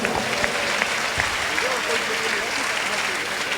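Audience applause during a Mangal Kalash installation ceremony, a steady wash of many hands clapping throughout, with voices mixed in.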